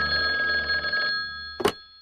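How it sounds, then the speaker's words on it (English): A telephone bell ringing loudly and steadily for about a second, then stopping, followed by a brief clatter as if the handset is picked up. "Then one morning, the phone rang."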